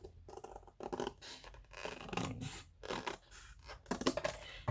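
Scissors snipping through fabric while making a sewing folder, a close, quiet run of separate crisp cuts with short pauses between them and no voices.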